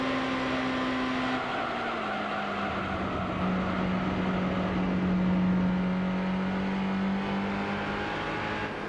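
Sports car engine in the Gran Turismo 3 racing game holds a steady, straining drone that climbs slowly in pitch, loud and continuous with no talk.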